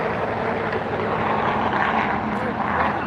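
LOT airliner taxiing at LAX airport, a steady broad engine rumble and whine heard at a distance with a voice talking over it throughout.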